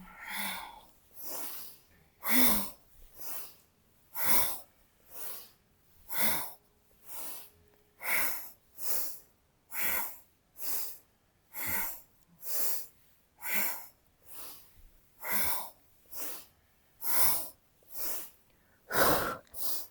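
Strong rhythmic breathing during a yoga breath exercise, forceful nasal inhales and exhales repeating steadily about once per second, close and alone, for the whole stretch.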